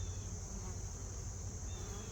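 Honey bees of a Carniolan and Italian mix buzzing around an open hive during an inspection, a dense continuous hum that is steady and faint throughout.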